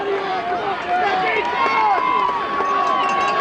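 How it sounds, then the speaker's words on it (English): Large crowd at a 1994 high school football game roaring steadily with layered cheers and shouting, a continuous loud wash of voices throughout. "Probably going to pick up a lot of good crowd noise tonight because these people are ready tonight."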